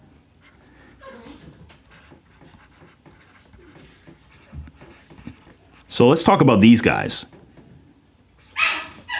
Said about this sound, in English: the dogs are being absolute goofballs right now